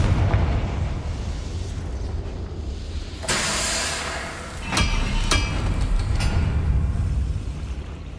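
Confringo blasting curse in Hogwarts Legacy: a sudden loud burst with a hissing, crackling tail, followed by two sharper blasts and a rumbling low backdrop, with no talk.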